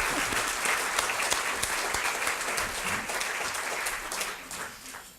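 Conference audience applauding in a steady, moderately loud wash that thins and fades toward the end, with no talk over it.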